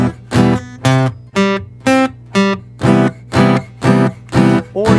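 An acoustic guitar strums a rhythmic chord pattern, about ten evenly spaced bright strums with short gaps between them, loud and close, no talking.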